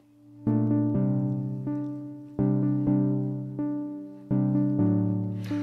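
Sustained chords from a Korg Minilogue XD synthesizer swell and fade in repeating phrases, a warm string-like pad stepping through a short progression.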